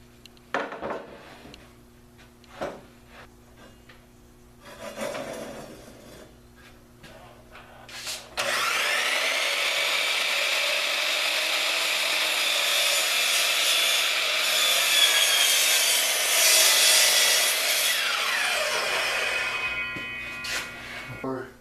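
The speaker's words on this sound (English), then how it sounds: "compound miter saw." A compound miter saw cuts through a board for garage upper cabinets. Some clunks and a bit of handling come first, then the blade whines up loud and steady and cuts for about twelve seconds before spinning down, close by.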